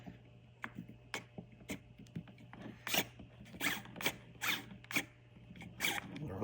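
A hand tool ratchets T9 Torx screws loose on a Tesla Model 3 steering wheel, a series of quiet clicking and rasping strokes in an irregular rhythm over a faint hum, close, no talking.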